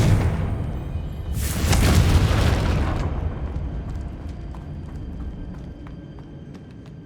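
A Confringo blasting spell in Hogwarts Legacy bursts into a loud, booming explosion about a second in, swelling into a broad rumbling roar that fades out over several seconds, leaving a low residual hum.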